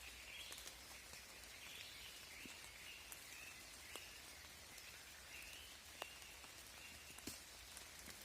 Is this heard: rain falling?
yes